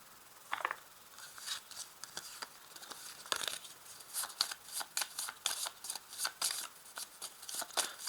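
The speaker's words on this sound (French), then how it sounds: "donc je tire 3 cartes" Playing cards are shuffled and drawn during a tarot-style reading: crisp, riffling flicks and papery snaps in a rapid, uneven run, close and fairly quiet with no voice over them.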